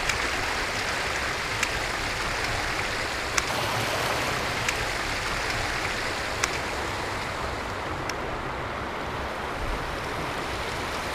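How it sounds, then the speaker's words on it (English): River rapids rush loudly and continuously around a kayak, a dense churning wash of water with occasional faint splashes, close and steady throughout. "These are rapids."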